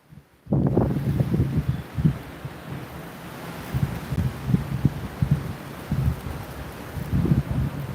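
Wind buffets the microphone of an electric unicycle rider travelling through a neighbourhood from Cherry Creek reservoir toward downtown, a loud continuous rumble with gusty surges close to the mic.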